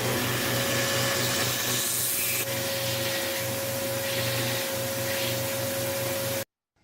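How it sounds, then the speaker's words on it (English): A big homemade grinder cleans burrs left by a cutting disc off a cut metal part, giving a steady loud whirring grind with a constant motor hum that stops abruptly at the end. "I cleaned up the burrs left from the cutting disc on my big homemade grinder"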